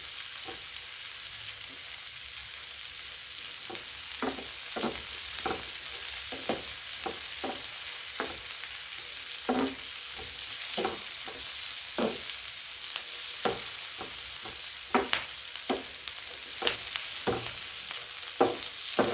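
Onions sautéing in a pan for a fish curry: a low steady sizzle broken by repeated sharp spoon scrapes and clacks against the pan, close and fairly loud, no talking.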